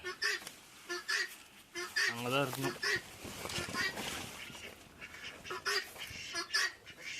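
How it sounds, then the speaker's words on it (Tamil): Ducks quack loudly in a short harsh burst amid steady conversation, with a person speaking close by before and after the calls. "இந்த வாத்துங்களோட ராவடி தான் தாங்க முடில"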